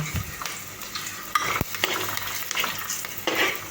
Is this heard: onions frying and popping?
yes